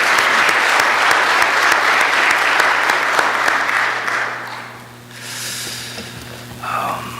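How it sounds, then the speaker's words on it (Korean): Congregation at a Korean church Sunday worship service claps together in a dense, loud burst of applause that fades out after about five seconds, followed by quieter room sounds and a brief voice. "하나님 앞에 한번 감사의 박수를 다 같이 한번 또 드렸으면 좋겠습니다."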